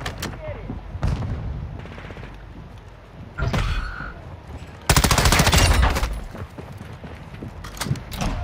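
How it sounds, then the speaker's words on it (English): Bursts of automatic gunfire in a first-person shooter video game, coming in several rapid rattling volleys of varying loudness, with bits of voice chat in between. "Taking effective fire."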